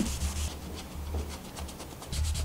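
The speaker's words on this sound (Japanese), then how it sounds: "ボンドがまあついていないところもこういうふうに磨いてあげるといいですね" Wooden parts of a four-wood clock kit being rubbed and polished by hand to lift leftover white glue, giving a steady, close scrubbing hiss in repeated strokes with short pauses between passes.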